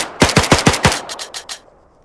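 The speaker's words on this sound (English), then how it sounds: "I shoot another few, reload again" Rifle fire in Arma 3: a rapid burst of about five sharp loud shots followed by three or four weaker, thinner reports trailing off, all within two seconds, with no talk.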